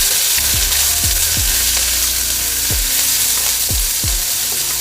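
Green and red peppers with onions sizzle loudly in a hot pan for brisket lo mein, a dense steady fry broken by repeated scraping stirs of the vegetables.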